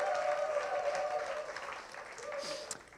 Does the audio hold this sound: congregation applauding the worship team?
yes